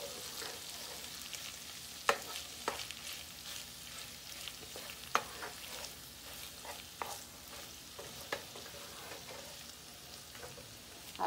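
Sofrito recaíto and sauce sizzling in a frying pan, a steady close crackle with occasional sharp pops and stirring scrapes, no voices.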